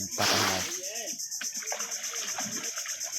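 Fishermen bailing water by hand with buckets, fishing by hand in the province, send up a loud, close burst of splashing that fades into softer trickles and sloshing as voices talk in the background.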